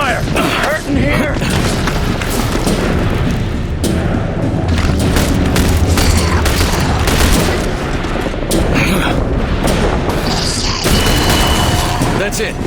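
Continuous gunfire and explosions in a combat scene from The Bureau: XCOM Declassified, dense bursts and booms under game music, with shouted voices mixed in throughout.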